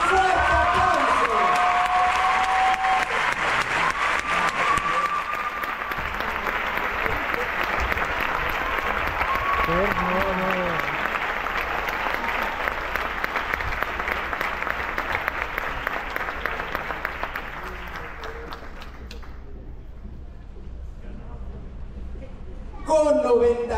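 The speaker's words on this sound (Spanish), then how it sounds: "¡Y un fuerte aplauso!" Sustained audience applause at a university law faculty graduation ceremony honoring top-ranked students, a dense wash of many hands clapping that holds steady for about twenty seconds before fading out, with a voice briefly returning at the end.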